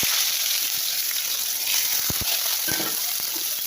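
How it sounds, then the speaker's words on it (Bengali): Onions and green chillies fry in hot oil, giving a continuous sizzling hiss, with a few sharp knocks of a spatula against the pan partway through. "এবার আমি পেঁয়াজগুলো সব দিয়ে দেবো পেঁয়াজ আর লঙ্কা"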